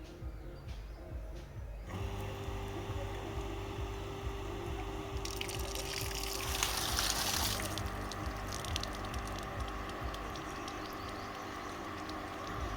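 A newly fitted electric water pump motor switched on to draw water, giving a steady low hum with rushing, splashing water noise that swells partway through, no voices.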